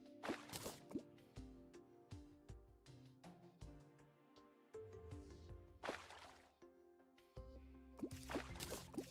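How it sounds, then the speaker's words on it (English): Terraria fish leaping from the water, heard as repeated bright splashy plops and drips over a busy game soundscape with a low musical drone, several sharper bursts scattered across the stretch. "Kind of a weird sound for a fish jumping out of the water"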